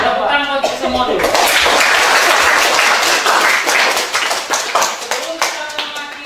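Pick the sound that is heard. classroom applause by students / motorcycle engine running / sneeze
classroom applause by students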